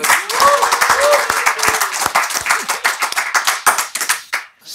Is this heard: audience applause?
yes